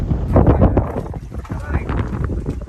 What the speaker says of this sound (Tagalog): Nabutan na kami ng malakas na hangin